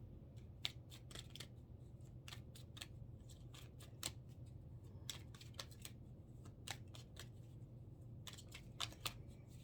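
Tarot cards being shuffled and laid out, giving repeated crisp papery snaps and riffles spread irregularly over a steady low background hum, fairly faint and close.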